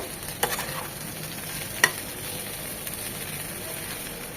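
Ayer fish frying in oil in a pan, a steady low sizzle with a few brief utensil scrapes and stirring clinks near the start and middle, close and fairly quiet, with no talking.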